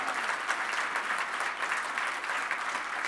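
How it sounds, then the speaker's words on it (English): Steady applause from a crowd at a user group conference closing session, dense clapping at an even level throughout with no pauses. "So just a huge round of applause to all of them."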